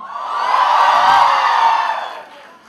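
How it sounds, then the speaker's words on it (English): University audience at a Mumbai felicitation event cheering and whooping, a loud swell of crowd shouting that builds, holds and then drops away, with no clear speech. "Make some noise, come on."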